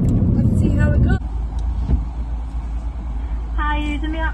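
Interior of a car driving on the road, a steady low engine and road rumble continuing throughout, with people talking inside the cabin at the start and end.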